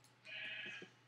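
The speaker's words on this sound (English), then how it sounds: "Why is there a sheep in our house?" A single sheep bleat from the Minecraft video game, a short wavering nasal baa heard alone at low level.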